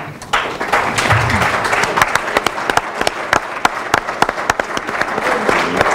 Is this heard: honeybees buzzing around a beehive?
no